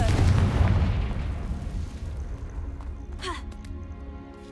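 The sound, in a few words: Confringo fire blast spell, Hogwarts Legacy video game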